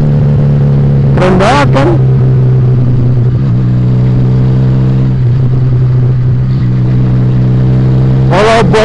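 A Regal Raptor Cruiser 350cc motorcycle engine idles with a steady low rumble throughout, with brief louder revs near the start and again at the end, while someone talks over it close by.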